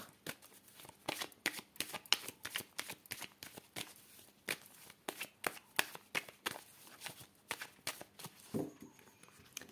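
Tarot cards shuffled and cut by hand, a fast run of crisp riffling flicks and slaps in an uneven rhythm, close and fairly quiet, with no voice over it.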